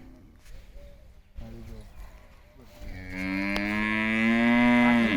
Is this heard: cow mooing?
yes